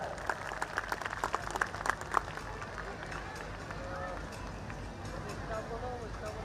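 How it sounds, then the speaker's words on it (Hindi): Parents in the audience at a school annual day applaud, a scattered burst of clapping over the first couple of seconds that thins out as a voice talks on over the hall's murmur. "जोरदार तालियां बजा के इनका बधाई दीजिए,"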